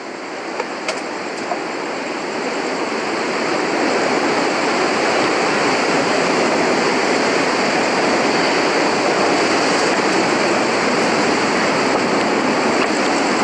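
High ocean waves crash near a bridge, a loud, continuous broadband roar of surf that swells in the first seconds and then holds steady with no voices.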